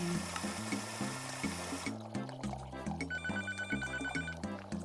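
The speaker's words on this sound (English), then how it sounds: "The phone is ringing." A telephone rings in the Papa's Mocharia Deluxe video game, a bright repeating electronic ring over a looping game tune with steady stepped notes, no talk.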